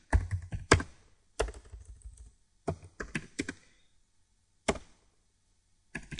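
Code being typed on a computer keyboard comes as close, crisp bursts of clacking keystrokes separated by short pauses of near silence.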